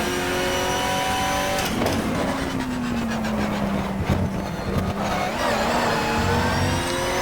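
Racing car engine in the GTR2 driving game, a loud, steady whine that holds, drops as the car shifts and slows, then climbs again, with brief rattling bursts and no talk.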